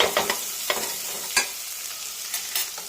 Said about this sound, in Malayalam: മഞ്ഞൾപ്പൊടി ആവശ്യത്തിനുള്ള ഉപ്പ് എല്ലാം കൂടെ ഒന്ന് ഇളക്കിയെടുക്കാം